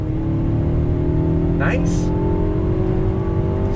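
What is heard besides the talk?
Mercedes-Benz GLB 250 engine accelerating on throttle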